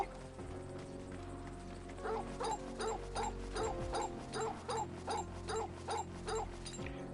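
Torgal, the dog companion in Final Fantasy XVI, barks in a regular series of short, even barks over a low game ambience, moderately loud and alone.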